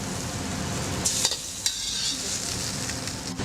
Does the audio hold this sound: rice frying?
yes